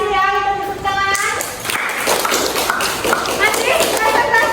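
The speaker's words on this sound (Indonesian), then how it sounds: "Kita tepuk tangan." A class in Indonesia breaks into applause for a student group, a dense, steady patter of many hands clapping just after a brief voice, with children's chatter mixed in.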